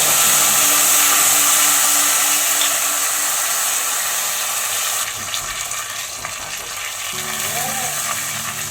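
Spice paste with dried chilli, mustard and fenugreek fries in a pan for Bengali dudh shukto. A loud, steady sizzle softens slightly partway through, with faint stirring scrapes.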